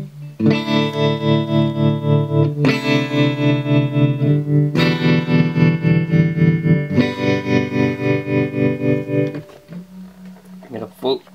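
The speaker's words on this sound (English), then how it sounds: "We just bring up the depth a little more and the rate a little." Electric guitar through a BOSS PN-2 tremolo/pan pedal: sustained distorted chords pulsing in a rapid, even throb, played loud and close in four long sections before a quieter tail with a few scattered notes.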